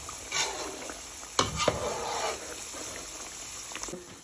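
Battered cauliflower pieces fry in a pan of hot oil with a steady soft sizzle, broken by a few sharp clatters of stirring or utensil knocks near the middle.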